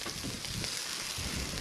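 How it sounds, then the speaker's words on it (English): Fish pieces sautéing in butter on a hot stone, a steady soft sizzle and crackle, brief and moderately faint. "Sauteed them up."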